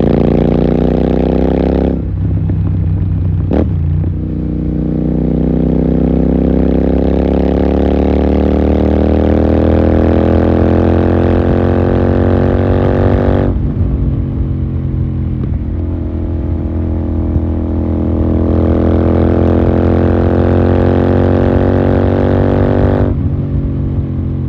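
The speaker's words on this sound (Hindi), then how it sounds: "बहुत प्यारी खींच रही है बाइक, बहुत बढ़िया साउंड निकाल रही है" A Royal Enfield Continental GT 650 fitted with a Red Rooster exhaust pulls hard at highway speed, its loud parallel-twin note climbing steadily through the revs with a few clear gear shifts, heard close and without talk.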